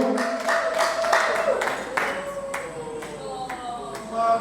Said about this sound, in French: Les applaudissements nourris pour cette grande artiste, remplie d'émotion.